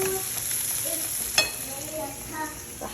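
Onions frying in oil in a pan, a steady sizzle with a few clinks and stirring sounds, close up and without talk.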